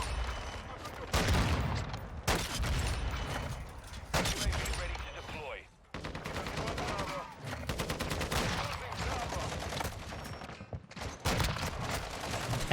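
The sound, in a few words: gunfire from a weapon in the video game Modern Warfare 2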